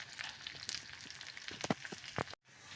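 Small silver cyprinid (omena) fish fry in a generous pool of oil, giving a steady close crackling sizzle with scattered sharper pops, then a sudden brief dropout before the sizzle resumes.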